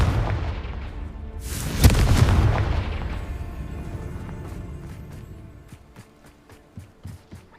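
A Confringo fire spell explodes in Hogwarts Legacy: a loud, close blast that booms and rumbles, then slowly fades over several seconds, followed by a scatter of light clicks and thuds.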